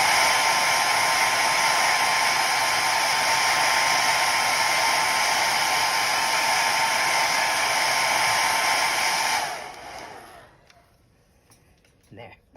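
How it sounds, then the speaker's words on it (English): A hair dryer, used to dry acrylic paint, blows with a loud, steady whooshing whir for several seconds, then switches off, leaving near silence and a faint thump. "I'm going to quickly hit it with the hairdryer"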